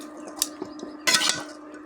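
A spoon stirs quail meat and potatoes together in a pan, with a few close metallic clinks and scrapes, then a louder burst of scraping and sizzle-like rustle, and no talking.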